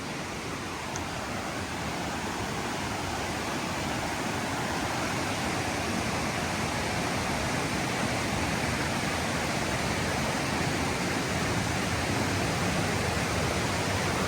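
Water rushes along a waterfall trail near Pune, a steady, loud, unbroken roar of flowing water with no voices.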